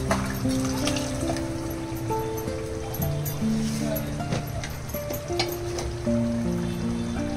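Spiced masala water pours into a pan for a chickpea dish, a continuous trickling splash sitting under steady nearby talking and faint kitchen clatter.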